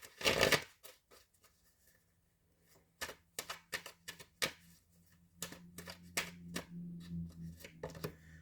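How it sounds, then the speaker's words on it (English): Tarot cards are shuffled by hand, starting with a riffle, then a run of crisp taps and slaps close by, alone without talk. "One more shuffle."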